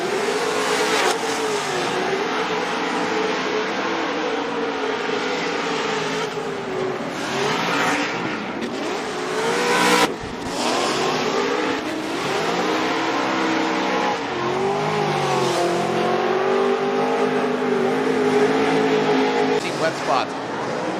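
Formula Drift race car driven at a 2022 event on Falcon tires, its engine revving and wailing continuously for the whole stretch with rising and falling pitch, tire squeal mixed in, loud and close, with commentary voices underneath.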